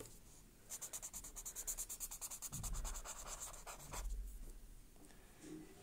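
Quiet, close pencil strokes scratch rhythmically across paper in quick back-and-forth bursts, with a pause in between and no talking.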